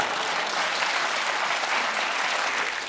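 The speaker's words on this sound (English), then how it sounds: "You just bullied them into clapping." Studio audience on a British comedy panel show claps steadily, a dense even wash of applause throughout.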